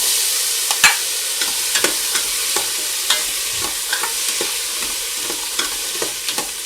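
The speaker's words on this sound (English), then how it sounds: "I'm just going to saute this until my onions are translucent." Onions, garlic and carrots are sautéed in a Ninja Foodi, with a gentle hiss of frying broken by scattered scrapes and taps of a utensil stirring the pot, close by and without talk.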